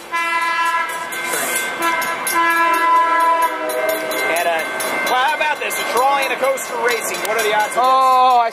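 A train passes close by in San Diego, its loud horn blaring in long sustained tones over rumbling rail noise and clatter, with pitch bending as it goes by, loud throughout.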